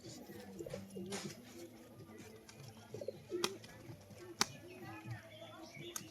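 Pigeons coo softly in a loft, repeated low throaty calls from a pair close by, with faint chirps, scattered clicks and a voice talking quietly underneath.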